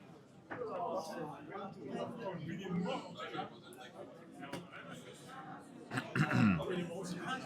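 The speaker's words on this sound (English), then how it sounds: "Sorry, had to clear my throat there." A man clears his throat amid ongoing speech while commentating a Cardfight!! Vanguard tournament, a rough guttural rasp near the end, close and moderately loud.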